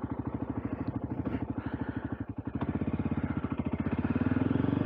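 A Voge Rally 300 small adventure motorcycle riding along, its single-cylinder engine a steady, close, throbbing drone that dips briefly and then rises as it pulls harder.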